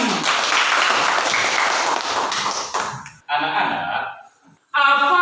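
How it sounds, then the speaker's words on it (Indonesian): A classroom of schoolchildren applauds a group of classmates, with dense clapping for about three seconds that fades before voices speak. "Nah, tepuk tangan buat kelompok 1."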